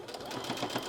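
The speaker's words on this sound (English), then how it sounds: "And back tack, and done." A sewing machine back tacks at the end of a straight seam on appliqué work, a close, steady whirring stitch rhythm running without pause for about a second.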